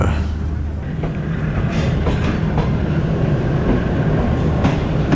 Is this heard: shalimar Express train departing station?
yes